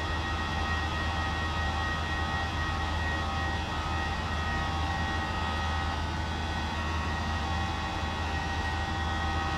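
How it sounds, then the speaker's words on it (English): A simulated aircraft engine in the Prepar3d v4.4 flight simulator drones steadily and loudly throughout, a constant broadband roar with a sustained hum and no voices. "What the hell are the engine sounds?"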